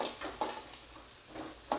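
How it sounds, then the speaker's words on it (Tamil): Chopped onions with curry leaves frying in a hot pan, a steady close sizzle with a few louder stirring scrapes at irregular moments, no voices. "கறிவேப்பிலை பொரிஞ்ச உடனே 2 வெங்காயம் பொடியாக நறுக்குண்டு, பெரிய வெங்காயம் தான் 1 போதும், மீடியம் சைஸ்னால் 2, அதையும் போட்டு கொஞ்சம் ஸ்டார்ட் பண்ணிக்கிறோம்"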